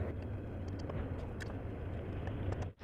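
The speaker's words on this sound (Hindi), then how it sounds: "जी तो कोफ्तों को हम हल्का हल्का फ्राई करेंगे" Koftas fry gently in moderately hot oil in a saucepan for a palak kofta dish, giving a steady, soft sizzling hiss with faint crackles throughout that cuts off abruptly at the end.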